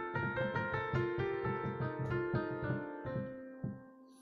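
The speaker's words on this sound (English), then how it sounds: "And the other one is the Rag Magashri, and it sounds like this." Raga Magashri is played as a scale on a melodic instrument, a quick succession of clear plucked or struck notes with sustained overtones that fade at the end, with no voices.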